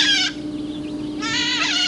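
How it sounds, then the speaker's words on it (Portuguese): Small green noble macaws (Maracanã nobre) in a village on Bananal Island give shrill, harsh, rasping calls, two loud bursts close by, separated by a short pause. "O canto dos galos é substituído pelo som estridente destas pequenas araras verdes"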